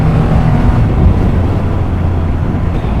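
A 2022 Triumph Rocket 3 R motorcycle rumbles loud and close with a deep, throbbing engine and exhaust note. The low growl stays steady throughout and is roughened by wind buffeting, with no voices.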